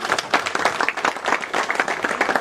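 Audience applause at a chamber of commerce member meeting in Bozdoğan, a steady burst of many hands clapping together, fairly close and continuous throughout without talk.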